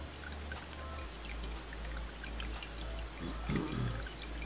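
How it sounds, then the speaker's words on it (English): Thick red wine reduction sauce for smoked braised lamb shanks draining through a strainer, a soft close trickle and pour that continues quietly throughout. "Let the good stuff drain through."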